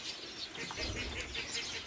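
Soft, fluttering wingbeats of several small birds close by at scattered corn and pigeon feed on a farm, with faint chirps over a steady outdoor background.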